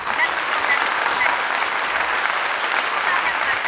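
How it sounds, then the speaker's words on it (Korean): Applause from a small group of people on a Korean fishing trip after landing a fish, steady dense clapping throughout, fairly close and fairly loud. "박수 박수 박수"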